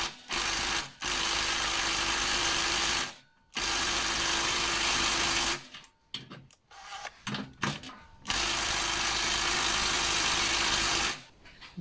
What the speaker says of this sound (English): So we use the larger impact wrench. Now it's coming off.